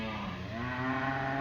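A single cow lets out a long, drawn-out moo on a farm, close and clear against quiet surroundings.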